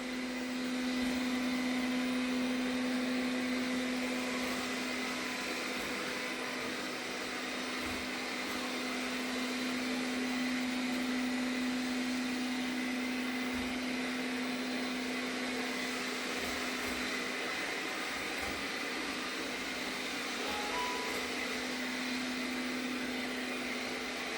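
An Arnagar S8 robot vacuum cleaner runs steadily throughout, a constant close whirring motor hum with a faint tonal whine and no pauses.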